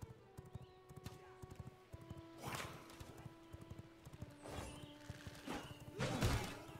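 Steady, rhythmic clip-clop of horse hooves at a quick pace in the video game Vampire Rising, with a brief whinny near the end and faint tonal background.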